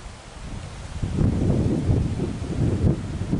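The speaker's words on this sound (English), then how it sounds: "There's the wind. Sorry for that." Wind buffeting a microphone outdoors at a boat ramp in Putnam County, Florida, a low rumbling roar that swells sharply after the first second and stays loud and gusty to the end, with no talking.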